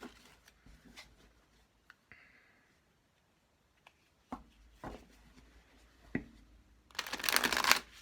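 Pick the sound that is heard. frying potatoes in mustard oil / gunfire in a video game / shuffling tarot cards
shuffling tarot cards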